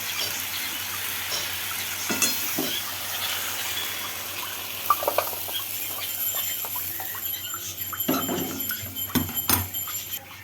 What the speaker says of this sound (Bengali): তো আবারও ভালো করে আমি ভেজে নেবো, দিয়ে নামিয়ে নেব।